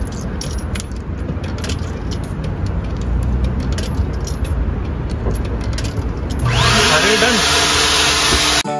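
A coin-operated vacuum cleaner at a car wash in Canada runs nearby, a steady loud whooshing roar that swells to a stronger, brighter hiss in the last couple of seconds, with jangling and clattering handling noises along the way.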